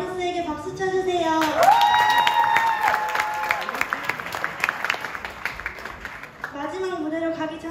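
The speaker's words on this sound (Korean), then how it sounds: "다시 한번 아이리스에게 박수 쳐주세요" An audience at a church festival gives dense, sustained applause, loud and close, mixed with cheering and musical tones. It swells early, stays strong for several seconds and then thins out as a voice returns near the end.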